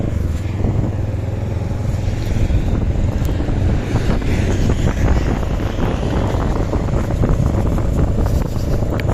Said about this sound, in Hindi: फराटे मारती हुई गाड़ियाँ ऐसे नेशनल हाईवे से गुज़र रही हैं जनाब